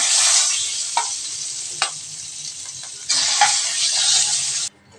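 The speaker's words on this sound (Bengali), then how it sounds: "দেখুন এক এক করে সব মাছগুলো আমি ভেজে নিলাম" Magur catfish pieces fry in oil with a bright hissing sizzle that dips and swells, broken by a couple of sharp clinks, then surges loudly again before cutting off.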